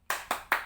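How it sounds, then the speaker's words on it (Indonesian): Three sharp, evenly spaced claps from a group of children doing the tepuk semangat clap chant, each clap ringing out loud and close with a short decay and no voices over them. "kakak akan memberikan satu jargon, namanya tepuk semangat"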